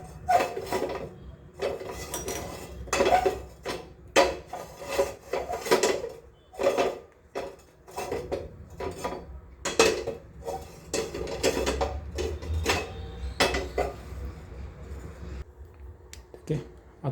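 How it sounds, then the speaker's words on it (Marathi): A pressure cooker is set down on a gas stove burning at low flame, giving a few metallic clunks and scrapes of cookware against the grate, under steady talking. "तर आपण याच्यावर कुकर ठेवून देऊ"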